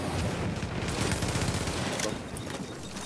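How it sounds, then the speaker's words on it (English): Gunfire crackles through a Dark Zone fight in The Division, a dense rattle of shots that holds fairly steady at moderate distance under faint voices. "I heard a sniper."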